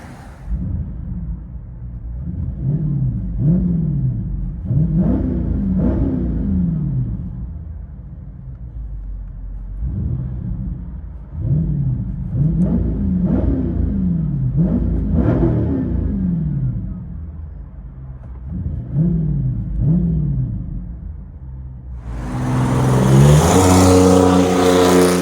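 Cabin view of a 2023 Dodge Charger Scat Pack 6.4 with a $2,500 aftermarket exhaust, its V8 revved repeatedly in loud rising and falling bursts, a deep rumble throughout, ending in a sharp roaring climb.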